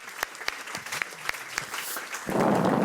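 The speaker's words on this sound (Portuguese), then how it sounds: "Uma salva de palmas para as duas" A live podcast audience at a university event breaks into applause, opening with a few scattered, distinct claps that swell into dense, steady clapping near the end.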